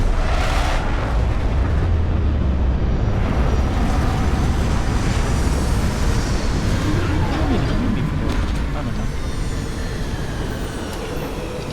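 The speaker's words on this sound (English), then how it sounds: "Retros firing." Spaceship retro thrusters fire during a landing in Starfield, a dense, steady, loud roar with heavy low rumble that holds for the whole stretch.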